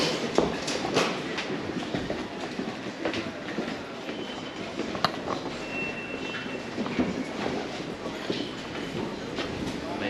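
A London Underground train bound for Morden runs through Colindale station, with a steady rumbling clatter of wheels, a thin high whine and faint voices in the background.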